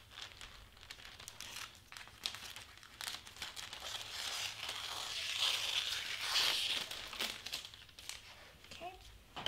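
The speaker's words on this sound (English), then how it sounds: "And I'm just gonna cut it like this." Clear plastic gift wrap is cut and crinkled close by, a run of crisp rustling and crackling with someone talking softly at times.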